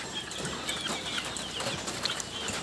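Backyard chicks kept as pets cheep faintly and high-pitched on a cold, rainy day, with soft scattered chirps over a low steady background hiss.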